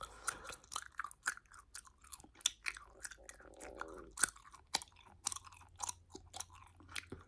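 Close-up gum chewing in a soft-spoken ASMR setting, with quiet, irregular wet smacks and clicks repeating steadily over a low background hum.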